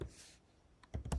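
Typing on a computer keyboard while entering a webhook callback URL for a PHP REST API, with a few short clustered key clicks near the end after a quiet stretch.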